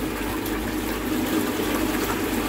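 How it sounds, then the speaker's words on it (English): A water pump runs after being switched on with the tap opened, giving a steady close hum under continuous flowing, trickling water, with no voices. "that goes to show that you can get a pump working"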